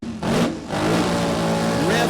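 A funny car drag racer revs its engine hard at Mo-Kan Dragway, a loud, close, rising roar with a brief dip before it climbs again, and an announcer talks over it.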